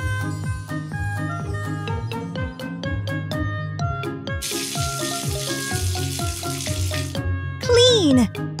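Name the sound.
water rinsing foam off a toy car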